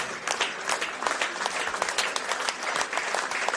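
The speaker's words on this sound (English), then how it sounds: "As you hear the Preston fans clapping Damien Bozanovsky off." Preston Lions FC fans at an NPL Victoria football match applaud a player leaving the field. Steady, dense clapping from the crowd continues throughout without pause.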